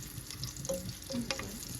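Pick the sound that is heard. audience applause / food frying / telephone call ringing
food frying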